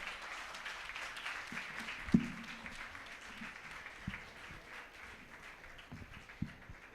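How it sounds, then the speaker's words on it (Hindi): An audience claps at a women's Shakti Parv gathering, with steady mid-level applause carrying on for several seconds and a few louder claps standing out. "आप तालियों के साथ इसमें सम्मिलित होइए।"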